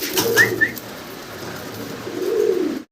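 A pair of Modena pigeons, a Gazi Modena type, give soft, close cooing calls in a couple of low, rolling phrases over a short stretch.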